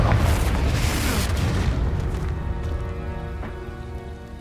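A Confringo fire spell blasts off in the video game Hogwarts Legacy, a single heavy boom that opens loud and then fades away over a few seconds into crackling, tonal residue.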